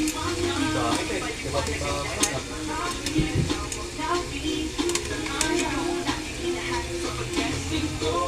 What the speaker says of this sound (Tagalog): Prito tayo ng pinakapwit ng manok. Dumami na yung mantika.